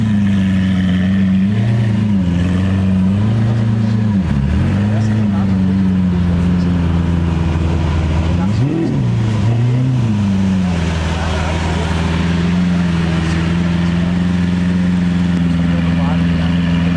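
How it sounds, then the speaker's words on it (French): A Ferrari 812 GTS at a car rally idles with a deep, steady rumble, then blips its engine twice into short, sharp revs before settling back to a smooth idle, close and loud. "En plus, c'est une 812 GTS. Alors écoutez le bruit."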